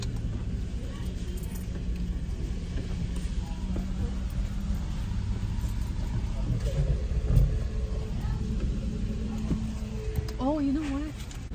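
A car being driven, its engine a steady low hum with road noise throughout, rising slightly midway, while people talk inside the cabin.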